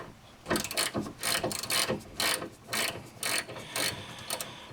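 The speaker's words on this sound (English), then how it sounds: "that's why we're using the 3/8 inch ratchet" A 3/8 inch ratchet turns a shallow 18mm socket on the tie rod of a Chevy Blazer or GMC Jimmy, giving a close run of quick clicking bursts in a steady back-and-forth rhythm, about eight strokes.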